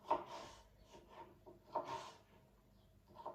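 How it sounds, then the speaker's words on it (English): A knife slices half a pepper into strips on a chopping board: three crisp, close cutting strokes about a second and a half apart, with light rubbing and scraping between them and no talk. "So we're just going to cut our pepper into strips first, like so, okay?"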